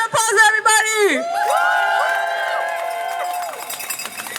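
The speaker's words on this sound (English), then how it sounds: "Give it a round of applause, everybody!" A crowd at an ICE Out of San Diego rally cheers with loud rising and falling vocal whoops and sustained shouted tones. Some background clapping and chatter sit under the voices.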